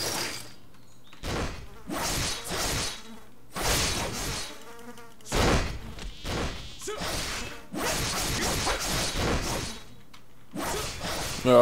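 Giant bumblebee enemies buzz and swoop in the online fantasy game Riders of Icarus. Loud, close whooshing and buzzing bursts come in irregular waves, broken by brief quiet gaps.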